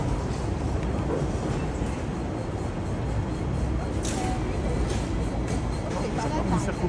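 Riding aboard a Hong Kong double-decker tram, with a constant dense rumble and rattle of the moving car filling the whole stretch, steady and close, with faint brief squeaks over the noise.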